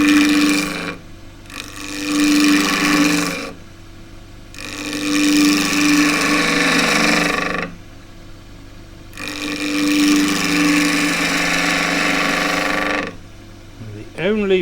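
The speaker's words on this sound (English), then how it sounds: "Cutting a square section to round. It's a 1-inch skew chisel," Woodturning on a lathe, a 1-inch skew chisel, long point down, cuts a square wood section to round, giving repeated harsh rasping bursts of a few seconds each with brief pauses, loud and close over a steady motor hum.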